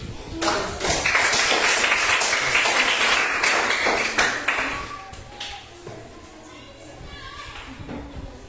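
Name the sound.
class clapping hands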